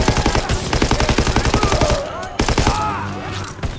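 Rapid automatic gunfire in Call of Duty World War 2, a loud, evenly spaced stream of shots for about two seconds, then a short pause and a few more scattered shots and bursts.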